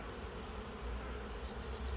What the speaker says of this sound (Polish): spójrzcie, ile pszczół wraca teraz